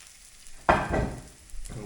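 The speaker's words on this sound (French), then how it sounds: "On va le laisser frire tranquillement." Garlic and a thin entrecôte steak frying in a pan, a loud sizzle bursting in as food meets the hot fat, then settling into a steady crackle close by.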